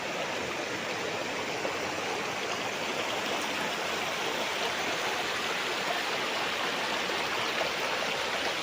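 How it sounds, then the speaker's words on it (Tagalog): Clear river water flowing steadily past a farm lot in Liliw, Laguna, a continuous broadband rush and burble close to the microphone, alone with no voices. "Ang agos ng tubig mga kaprops, pag ganun siya, papunta na po yan doon sa may tulay."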